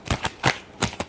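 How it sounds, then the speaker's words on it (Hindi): Tarot cards are shuffled close up in a quick run of four or five crisp riffling snaps, each sharp and short. "last shuffle"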